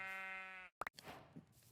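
A Minecraft sheep gives one clear, sustained nasal bleat, followed by brief clicky in-game sounds and a soft fluttering rustle.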